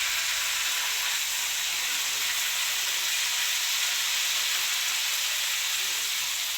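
Browned meat sizzles steadily in a hot pan as bagoong shrimp paste goes in, a constant bright frying hiss filling the whole stretch at close range with no pauses.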